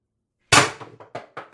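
One sharp air-rifle shot from an X-68 bolt firing a 10g ART Hammer round cracks out close after a moment of silence, followed by a few quick, fading echoes.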